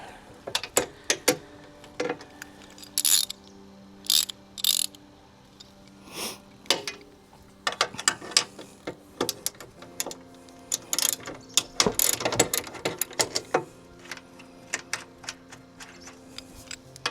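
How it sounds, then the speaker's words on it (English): Ratchet wrench clicking in irregular bursts while loosening half-inch roof connection bolts on a 4th Gen Toyota 4Runner, with short ticking runs separated by pauses, close and fairly quiet. "we might have to loosen the roof connection bolts, which looks like they're 1/2 inch as well"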